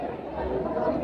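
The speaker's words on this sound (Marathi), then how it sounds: "किती गर्दी आहे." Dense crowd chatter fills a busy temple in Shegaon, a steady, close murmur of many overlapping voices with no single speaker standing out.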